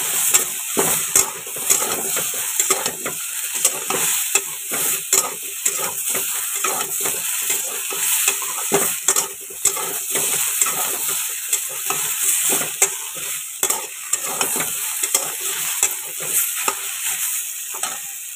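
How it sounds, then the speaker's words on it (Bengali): Masala spices fry in a pan with a continuous sizzle while a utensil stirs and scrapes in quick, irregular strokes, close and steady throughout, with no talk. "মশলাটা আর একটুখানি ভাজা ভাজা করে নেব"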